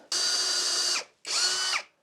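A power drill boring a pilot hole into a wall for mounting a 2x4 metal wall shelf, two sustained high whirring bursts close up, the second shorter, each winding down abruptly.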